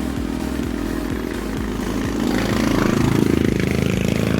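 A motorcycle engine idles close by with a steady low rumble and rapid rhythmic chugging that swells slightly louder toward the end.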